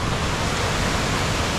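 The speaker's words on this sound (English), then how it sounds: "Just see this giant waterfall that comes down." A giant waterfall at Eurobin Falls on Mount Buffalo roars as a dense, steady rush of falling water, loud and unbroken throughout.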